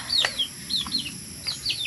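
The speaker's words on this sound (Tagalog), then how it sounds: "Ang manok." A chicken gives a few short, thin clucks and chirps outdoors in light rain, soft and somewhat distant over steady background hiss.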